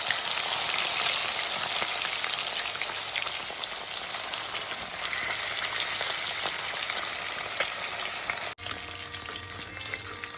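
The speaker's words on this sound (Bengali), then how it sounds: "আমার তেলটা গরম হয়ে গেছে মা একটা একটা করে মাছ এখন ছেড়ে দিচ্ছে" Freshwater fish fry in hot oil with a constant, rain-like hiss and crackle, steady and close, briefly cutting out near the end before resuming.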